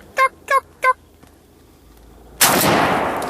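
On a youth turkey hunt in Sussex County, a turkey gobbles three quick times in a quiet field. After a pause comes one loud, close gunshot that rings out and slowly fades.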